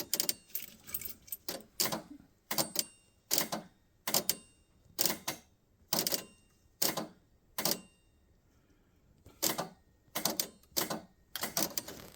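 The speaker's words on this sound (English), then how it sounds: "You do have a relay clicking out here." A starter relay in an XJR6 resto-mod car clicks sharply over and over in an uneven rhythm, about twenty crisp, close ticks separated by short silences.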